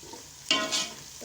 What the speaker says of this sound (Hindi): प्याज मेरे ब्राउन हो गए।